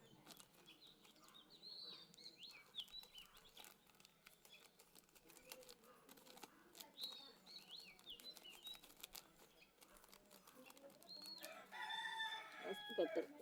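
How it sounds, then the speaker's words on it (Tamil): Chickens clucking and a rooster crowing faintly in the background of a rural outdoor kitchen while sun-dried vadagam is prepared from leftover rice, with scattered clucks and a louder crow near the end. "கோழி சவுண்டு ஆடு சவுண்டு எல்லாம் கேட்கும் தான்."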